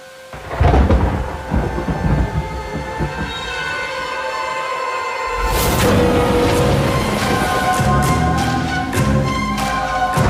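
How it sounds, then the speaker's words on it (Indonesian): Heavy rain pours steadily with loud rolls of thunder rumbling through, a big crash building near the middle and continuing as a sustained roar, with no voices. "Ini pasti bukan hujan biasa"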